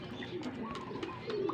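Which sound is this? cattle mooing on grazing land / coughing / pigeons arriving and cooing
pigeons arriving and cooing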